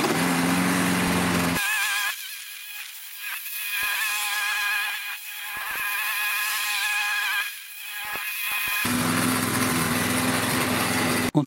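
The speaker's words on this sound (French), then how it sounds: "bah là, ça refonctionne." A lawn mower engine, running again after its carburetor was cleaned and its oil changed, drones loudly and steadily nearby, its pitch and loudness briefly sagging and then recovering.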